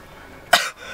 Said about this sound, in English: I've been coughing a lot while I'm filming.